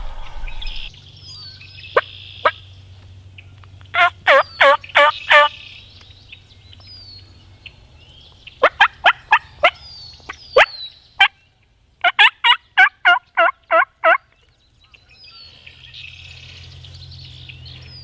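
Wild turkey gobbling on public land in Iowa: several loud, rattling gobble bursts in quick series, separated by quiet pauses, over a low background hum.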